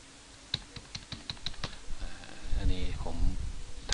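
Computer keyboard typing Thai text into a Snagit screenshot annotation: a short run of light, evenly spaced key clicks, then a voice speaking.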